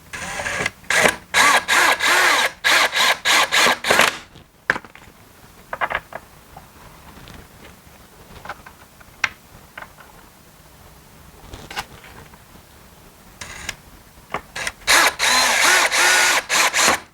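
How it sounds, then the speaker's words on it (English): Power drill driving screws up through the bottom of a Costco Adirondack chair during assembly, several loud whirring bursts at the start and end with quieter clicks and handling noises between, no talk. "We're going to put our screws through the bottom right here."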